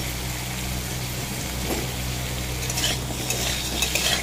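Onion and ginger-garlic paste frying in hot oil in a wok with panch phoron spices, a loud continuous sizzle with scraping stirring noises that grow busier toward the end.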